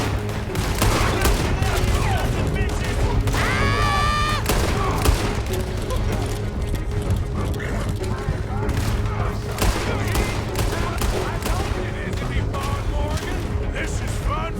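Heavy gunfire in a video game, continuous volleys of shots and booms running throughout, layered with game noises and tones while people talk over it.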